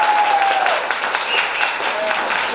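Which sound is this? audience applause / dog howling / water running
audience applause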